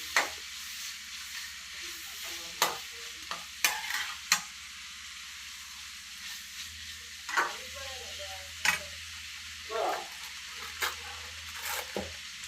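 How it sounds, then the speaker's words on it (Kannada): Onions sizzle steadily in hot oil in a home kitchen, with sharp clinks and scrapes of a spoon stirring the pan at irregular intervals over a constant frying hiss. "ಅಂದರೆ ಈರುಳ್ಳಿ ಚೆನ್ನಾಗಿ ಫ್ರೈ ಆಗಬೇಕು"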